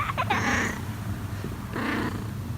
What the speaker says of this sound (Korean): 얼굴만 내놓은 채 이불 속에서 골골송을 부르는 냥이.